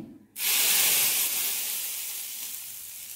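Very hot oil poured into a pan for bajri flour appe bursts into a loud, close sizzling hiss that starts suddenly and then slowly fades over a few seconds.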